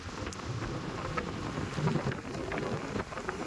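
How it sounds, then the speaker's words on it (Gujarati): Strong wind and heavy rain over the sea make a dense, continuous roar and hiss that stays steady and loud throughout, with no voices. "દરિયામાં મસ્ત મજાનો ભાઈ વાવડો અને વરસાદ પડી રહ્યો છે"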